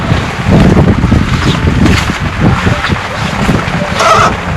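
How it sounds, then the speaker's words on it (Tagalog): Strong wind gusting over the open sea during night fishing from a small boat, loud continuous buffeting roar with wave wash and microphone rumble. "Yan, medyo humangin na."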